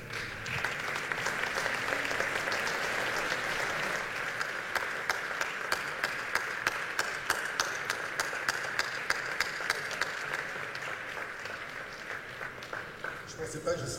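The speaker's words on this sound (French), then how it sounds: "Une personne que je vais vous demander de bien vouloir applaudir, à tout rompre, chaleureusement." Sustained audience applause at an exhibition opening, dense steady clapping throughout with a few sharper individual claps standing out, loud and close, fading slightly toward the end.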